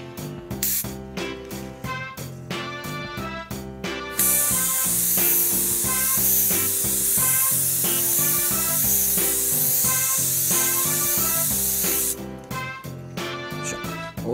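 A Gundam Marker airbrush powered by a gas can hisses loudly and steadily for several seconds while spraying onto a paper plate, then stops, with rhythmic background music playing throughout.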